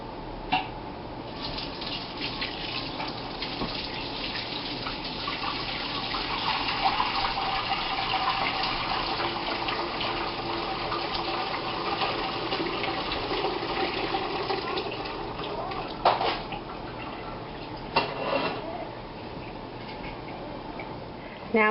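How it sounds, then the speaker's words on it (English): Chicken stock pours steadily through a strainer in a continuous splashing stream, with a few brief clinks of metal near the end. "I'm going to pour the stock through the strainer."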